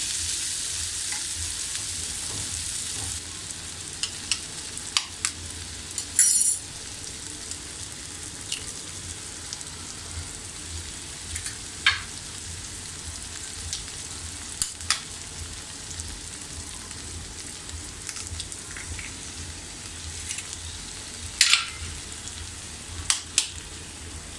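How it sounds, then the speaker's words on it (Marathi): Beaten eggs frying in a pan with softened onion and tomato for street-style egg bhurji hiss in a steady, continuous sizzle, broken by occasional sharp taps and scrapes of a spatula stirring, with no voices. "आता आपण याच्यामध्ये अंडी फेट टाकायची आहेत"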